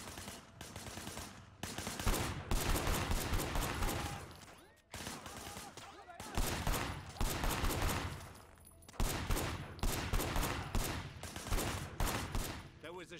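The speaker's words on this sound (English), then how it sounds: "There was a shooter, firing shots from the passenger window." Repeated bursts of gunfire from a car's passenger window in the video game Sleeping Dogs, loud rapid volleys separated by short pauses, with dense chaotic action noise throughout.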